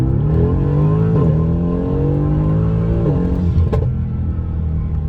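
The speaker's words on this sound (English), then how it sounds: "The pops, the bangs are all accentuated from the tune, from the exhaust." A Mercedes-AMG GT S engine drones loudly and steadily, pitch sliding up and down with revs, with a sharp crackling exhaust pop near the end; close and continuous.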